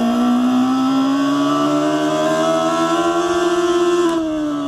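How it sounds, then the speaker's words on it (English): A Bluetooth exhaust on a 2023 Emmo Gandan Turbo electric motorcycle plays a loud, simulated engine note at full volume, a steady buzzing drone whose pitch climbs slowly and then drops off near the end. "with the full volumes on the Bluetooth exhaust on, it really, so like the sound is really very very loud"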